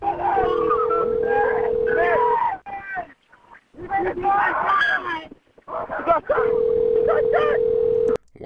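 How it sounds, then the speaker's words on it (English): Telephone ringback tone on a 911 emergency call: long steady tone bursts repeating with pauses, heard alongside loud talk over the line. "Why is 911 ringing twice, 3 times, 4 times?"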